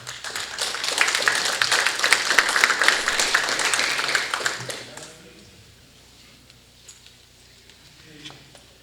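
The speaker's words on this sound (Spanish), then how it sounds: "Recibamos al doctor Rivadeneira con un fuerte aplauso" A seated audience at a lecture on extractive metallurgy gives a warm burst of dense applause lasting about five seconds, then it fades quickly into a quiet room with a few stray claps.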